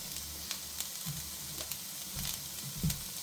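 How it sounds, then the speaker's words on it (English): Lasagna filling cooking in a pan, stirred steadily so it cooks through, makes a soft continuous sizzle broken by faint scraping strokes and occasional light taps of the spoon, close and quiet. "we're stirring it so that it can all cook properly"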